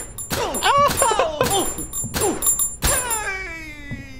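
Letters fire off in rapid succession in the video game My Friendly Neighborhood, a string of punchy thunks and bright dings with a ringing tonal tail at the end, loud and close, mixed with game sounds.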